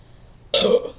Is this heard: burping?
yes